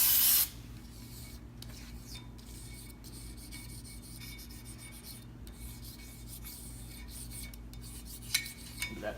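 Cloth rubbing over a coated brake rotor from a 1993 Mercedes 400E, soft steady scrubbing strokes close by with a few small clicks of handling near the end.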